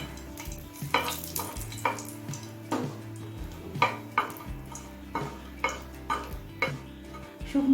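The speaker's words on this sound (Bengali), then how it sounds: "লঙ্কাটা হালকা লাল করে ভেজে নিয়েছি" Six or seven dried red chillies are stirred in two tablespoons of hot mustard oil in a pan over high flame, giving a soft sizzle under regular scraping knocks of a spoon against the pan.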